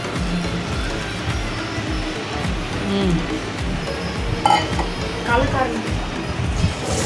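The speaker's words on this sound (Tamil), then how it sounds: "ஸோ அந்த மாதிரி பீட் பண்ணிகிட்டே இருக்கணும்." Eggless vanilla cake batter is beaten in a bowl with steady, repetitive rhythmic strokes and occasional light clinks, continuing under a talking voice.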